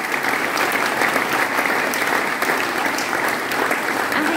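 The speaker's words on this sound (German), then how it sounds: "das ist ein Applaus wert" A hall audience at a Kornwestheim mayoral election event applauds the candidates, steady even clapping that stays loud and unbroken from start to finish with no speech over it.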